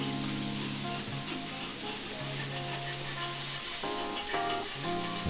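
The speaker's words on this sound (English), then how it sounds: "We gonna give that a mix. Oh yeah, this onion and garlic is smelling so good up in here." Onion and garlic sizzle steadily in a hot pan as they are stirred, with scraping and clinking of the utensil against the pan over the constant frying hiss.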